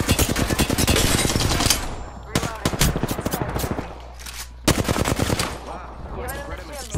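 Rapid automatic gunfire in Apex Legends, loud bursts of closely spaced shots that stop briefly and then resume, with some voice chat in the background.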